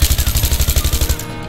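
Rapid automatic gunfire from the video game Battlefield 3, a steady burst of about a dozen evenly spaced loud shots close up, then a sudden cutoff.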